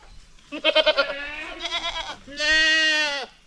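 A goat bleats nearby in a few wavering calls: a quick stuttering bleat, a shorter one, then a long drawn-out cry.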